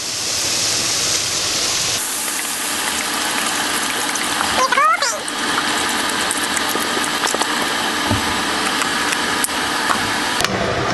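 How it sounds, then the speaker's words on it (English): Thirty-two ounces of almond milk pour into a pan of browned sage pork sausage, a steady close gushing splash under a continuous hiss, lasting several seconds. "now I'm going to just pour 32 ounces of almond milk right into the pan."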